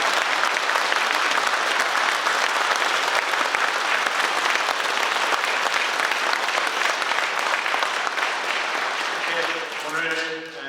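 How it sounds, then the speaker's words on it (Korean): A congregation at a Korean Catholic thanksgiving Mass applauds loudly for Bishop Paul Kim Chang-ryeol, dense sustained clapping across the whole room that tapers off near the end as a voice begins. "김창렬 바오로 주교님께 큰 축하의 마음을 담아 큰 박수"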